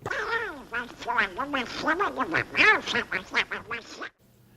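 A voice imitating Donald Duck in a 1939 film, a rapid run of nasal, squawking quacks in uneven bursts for about four seconds before cutting to near silence.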